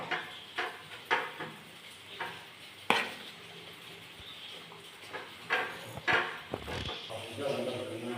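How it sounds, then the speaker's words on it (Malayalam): Cake batter being stirred and mixed in a bowl with an improvised utensil, giving soft repeated scraping and swishing strokes with a few sharper knocks against the bowl, fairly close. "അപ്പോൾ നമുക്ക് ഇത് വെച്ചിട്ട് മിക്സ് ചെയ്യാം."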